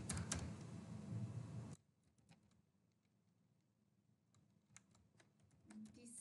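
Keystrokes clatter on a computer keyboard as code is typed, a steady burst of close clicking at first, then sparse, quieter taps in a hushed room.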